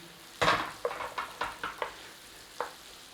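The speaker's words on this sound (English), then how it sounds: "Straight in with our onion and garlic. Let's give that a little sauteing off in there." Onion and garlic sautéing in a pan while chicken is prepared, heard as a quiet run of short sizzling bursts and scrapes, one stronger burst followed by several smaller stirring strokes and a final one after a pause.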